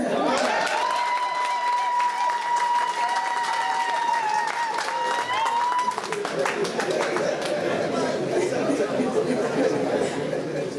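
Sustained crowd applause with clapping and chatter at a celebration at the Cameroonian embassy, joined midway by a drawn-out musical tone before the clapping continues densely to the end.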